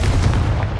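Confringo blasting spell cast in the video game Hogwarts Legacy, a single short loud boom with a heavy low rumble filling the whole moment, no talk.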